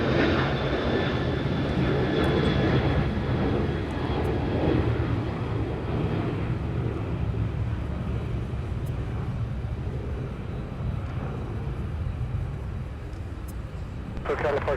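An airliner arriving at LAX rumbles with a broad, loud, sustained engine roar that slowly fades over time, with a faint whine early on and a brief knock at the end.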